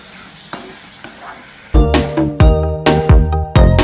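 Onions and tomatoes frying for soya chunk bhurji, a soft sizzle that gives way to loud, repeated metallic clanks of a spoon stirring against the pan in an irregular rhythm.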